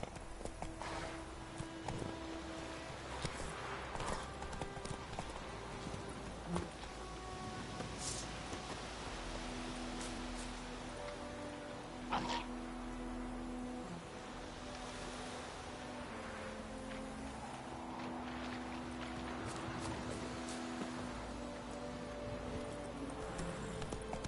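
Hoofbeats of Roach, the horse from The Witcher 3, clip-clopping steadily at a run over a continuous ambient outdoor bed with low tonal music, moderately close.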